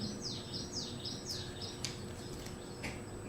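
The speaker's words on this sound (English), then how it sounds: "I like hearing birds cussing, even if I can't see who said what." Several small birds chirp in short, repeated tweets, some descending, against a steady low outdoor hum in Temescal Canyon; calls are moderately near and clear, with no talking.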